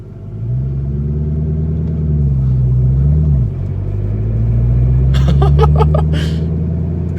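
A deep, steady 2006 Ford GT engine rumble with muffler deleted at low cruising speed, rising and dipping briefly midway, with a short burst of clicking chatter near the end.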